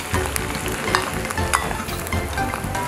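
Sichuan peppercorns and mixed seasonings stir-fried in a wok over low heat, a steady close sizzle with frequent scraping and clattering stirs, no voices.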